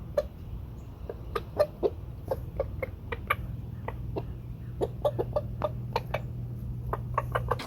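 Rooster making food calls to hens, a run of short repeated clucks in irregular rhythm, near and fairly clear over a steady low hum, with no talk.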